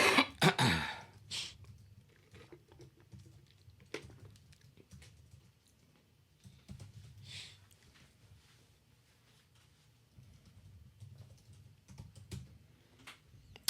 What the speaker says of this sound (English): Oh, you're typing shit.